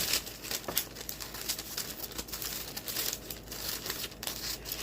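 A paper circle is cut out by hand to line a cake pan, giving soft, quiet crinkling and rustling with small snips, close by and without talk.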